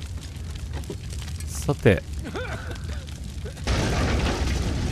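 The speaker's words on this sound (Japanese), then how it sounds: "おお、爆発しましたね。" A boom from an explosion in the horror adventure game Someday You'll Return: Director's Cut, a sharp burst followed by rumbling debris, then a sustained loud roar; someone speaks briefly before it.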